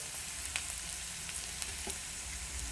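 Onion fries with garlic, cumin and curry leaves in a pan for a village-style cluster bean dish. A soft, continuous sizzle is broken by a few faint pops and crackles, with nobody talking.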